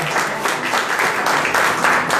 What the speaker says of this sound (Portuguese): Se você quiser e puder aplaudir a Jesus,